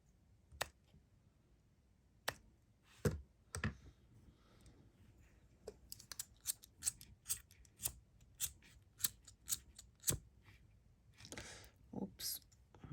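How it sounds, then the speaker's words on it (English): Scissors snip bead wire in a jewelry-making session, sharp close clicks coming singly at first and then in a quicker run of cuts over quiet background. "And then snip these off."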